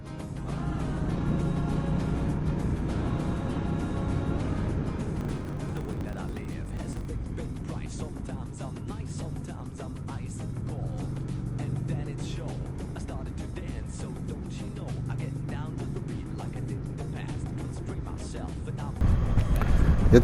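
A Moto Guzzi Stelvio motorcycle cruises along the D909A road beside Lac d'Annecy, its steady engine drone and wind rush continuous and close throughout, with a rider's voice talking over it.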